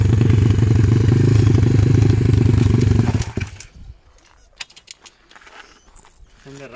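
A 140cc XL pit bike engine runs loud and steady at close range, a dense rumbling drone for about three seconds before it cuts off, leaving faint clatter and quiet sounds.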